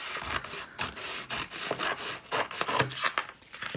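Close rasping and rubbing of stencil vinyl transfer tape being trimmed, a run of short scraping strokes at moderate level with no talk.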